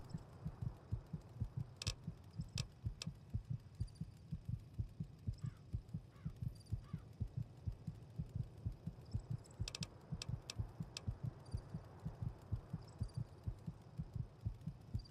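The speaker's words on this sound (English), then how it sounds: "My heartbeat is very fast." Rapid, steady heartbeat pulses thud low and close throughout, a fast throbbing rhythm with faint higher game sounds flickering over it, heard during a session of Fallout New Vegas.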